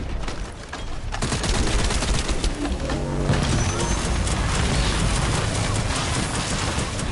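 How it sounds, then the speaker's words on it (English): Rapid automatic weapon fire in The First Descendant, a dense loud stream of shots that builds after a brief quieter opening and keeps up steadily to the end. "This thing got rapid fire like that?"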